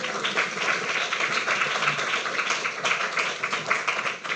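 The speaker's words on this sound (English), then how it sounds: "Let's give Doug Graff a round of applause." An audience at a design and planning talk applauds a guest, a dense, sustained clapping that stays fairly loud and steady throughout, with no voices over it.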